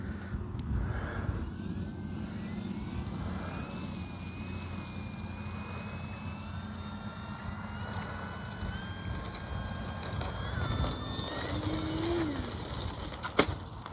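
A Durafly T-28 RC model airplane flies in gusty crosswind, its electric motor whine rising and falling at a distance over steady wind noise and rustle throughout.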